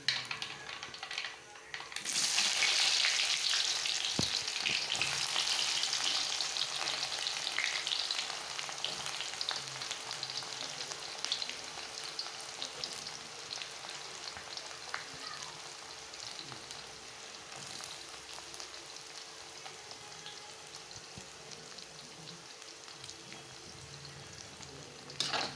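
Onions and green chillies hitting hot oil with cumin for egg rice: a sharp burst of sizzling that flares up, then settles into a steadily fading crackle over many seconds, with occasional stirring clicks and no talking.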